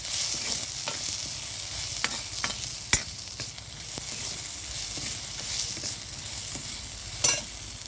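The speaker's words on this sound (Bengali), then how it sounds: "আর বেগুন আলু ভাজি করছি।" Eggplant and potato frying in oil on a stove, a continuous near sizzle broken by several crisp clicks and scrapes as the pieces are stirred, with no voices.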